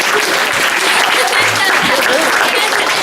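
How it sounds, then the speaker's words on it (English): A live magic show audience claps for a volunteer lady, a dense, loud and even burst of applause that holds for the full three seconds, with voices mixed faintly under it. "can I have a round of applause for this lady for helping?"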